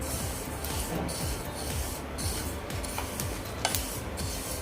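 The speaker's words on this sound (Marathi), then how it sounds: "आणि यामधनं आवाज यायला लागला की आपले तीळ भाजून झाले" Sesame seeds dry-roasting in a pan are stirred continuously, giving a soft, close scraping and rustling with faint crackles throughout, heard alone and without speech.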